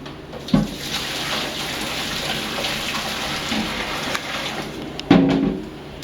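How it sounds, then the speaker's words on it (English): Water pours from a cooking pot into a kitchen sink while shrimp are being prepared, a steady splashing gush with a couple of louder sloshes and clanks near the start and toward the end. "I like to drain a little bit of the water."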